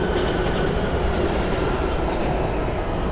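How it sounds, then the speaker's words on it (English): A train passes nearby in the desert around Dateland: a steady, loud rumble of wheels and rail noise, continuous and dense throughout, with no talking. "There's the train."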